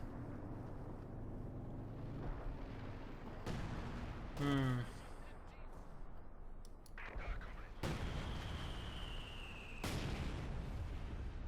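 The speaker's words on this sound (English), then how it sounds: "Bombarding the area around here." Artillery shells land in a Company of Heroes 2 match between Wehrmacht and Soviet forces, with several heavy booming blasts spread across the stretch under steady commentary.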